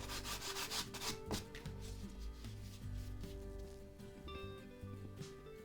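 A hand rubs steadily over a vinyl wall-art transfer, making a continuous scratchy friction sound with a busy, layered background underneath.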